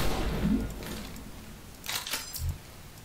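A video game pulse pistol sound effect is previewed in a sound browser: a soft low thud first, then a pair of bright crackling zaps and a short low thump, close and fairly quiet, with no speech.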